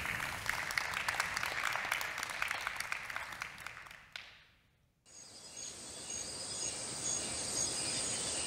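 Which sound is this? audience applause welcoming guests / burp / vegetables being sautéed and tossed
audience applause welcoming guests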